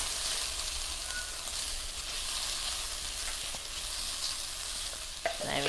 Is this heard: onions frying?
yes